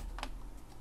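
A single computer keyboard key is pressed with a soft, quick click, faint and isolated, with no voices around it.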